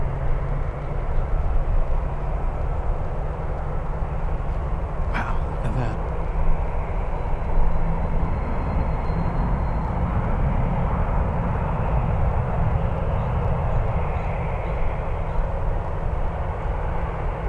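Airliner at San Francisco International Airport, a steady distant jet engine roar that holds throughout, with a voice talking over it.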